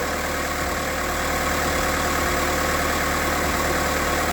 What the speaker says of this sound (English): So far, we've been idling for about 5-10 minutes and everything seems good.